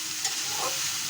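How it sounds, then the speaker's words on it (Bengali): Taro stolons (kochur loti) are sautéed with spices in a pan, giving a steady, quiet sizzle with soft stirring scrapes close by and no voices. "এরপরে আমি মশলাটা দিয়ে কচুরলতিটাকে ভালো করে একটু কষিয়ে নেব।"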